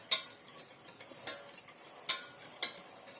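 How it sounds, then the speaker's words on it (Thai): A cornstarch mixture for a Thai corn pudding dessert being stirred: quiet swishing with four sharp clinks of a utensil against the bowl, spaced unevenly, close and fairly soft. "ใส่แป้งข้าวโพดลงไปแล้วเท่ากับคนส่วนผสมให้เข้ากัน"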